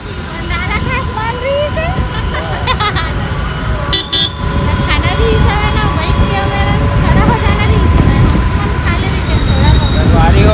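Heavy road traffic at a busy spot in India: a dense, loud roar of engines with frequent short car and bus horn toots, people's voices mixed into the din.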